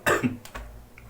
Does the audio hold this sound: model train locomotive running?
no